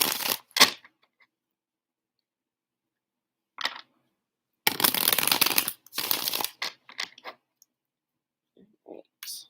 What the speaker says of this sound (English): So I'll pull 2 cards for you.